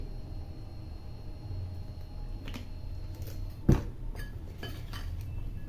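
Mango pickle is mixed with oil and spices in a bowl, heard as quiet scraping and stirring, with a few soft clinks and one sharper knock of utensil against the dish.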